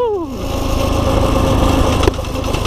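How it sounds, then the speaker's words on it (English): A small pit bike engine runs steadily with a rapid buzzing rhythm and gives one sharp backfire pop near the end, close and loud. "Little backfire."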